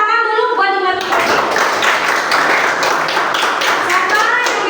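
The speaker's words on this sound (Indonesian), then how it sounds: "Tepuk tangan dulu buat Hikmatul Qorbi." Classroom applause: a voice speaks briefly, then a crowd of pupils claps steadily and loudly, with dense overlapping slaps that continue to the end.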